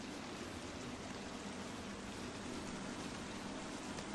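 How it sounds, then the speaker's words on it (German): Splashing, rushing water in The Forest video game, a steady close wash of noise that holds evenly throughout with no voices over it. "Das plätschert so sehr"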